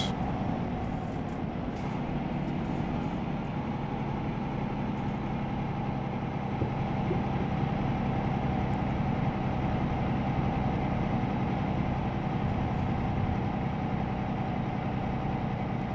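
A DAF XD truck engine in Euro Truck Simulator 2 drones continuously, a deep steady rumble with a gritty mechanical texture, close and unchanging throughout.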